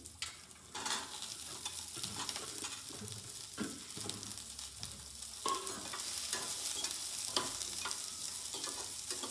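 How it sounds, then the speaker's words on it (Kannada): Onions frying in a pan for a home Shivaratri meal, a steady close sizzle with occasional stirring scrapes and sharper crackles throughout, no voices. "ಚೆಂದ ಫ್ರೈ ಮಾಡ್ಕೊಳ್ಳಿ ಈರುಳ್ಳಿ"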